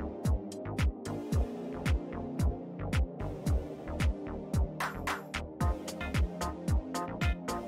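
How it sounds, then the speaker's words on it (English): A saw cutting excess off a scrap metal part: even, rhythmic strokes about twice a second, each a short grinding pulse, close and steady, with no voices. "We saw all the excess from the detail"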